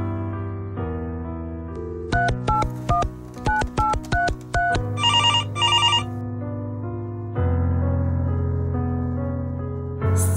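Telephone ringing loudly in bursts of rapid electronic trills, a steady tone underneath, repeating several times close by with no talk.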